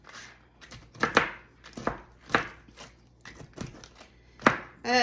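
A bigger knife chops for a grape salad, giving about eight or nine crisp, close thuds on a board at an irregular pace, with quiet gaps between strikes.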